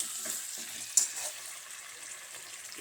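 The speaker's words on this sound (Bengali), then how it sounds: "তেল ছেড়ে দিয়েছে যে সামান্য জল দিচ্ছি দিয়ে চাপা দেবো" Chicken frying in oil sizzles steadily in a pan, and a splash of water added to it brings a brief louder hiss before the sizzle settles again.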